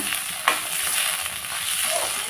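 Mixed vegetables frying together in a pan for a pasta dish, a steady close sizzle with a few brief stirring scrapes and no voices.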